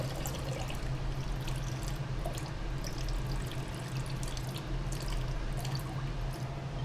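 Chow mein noodles are lifted from a bowl of cold water, and water drips and streams back down in a close, continuous patter.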